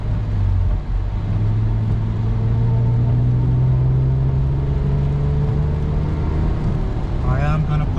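Lexus IS250 all-wheel-drive sedan pushed hard on the road, its engine droning and rising in pitch as it accelerates, heard from inside the cabin with a steady low rumble, and a voice speaking briefly near the end.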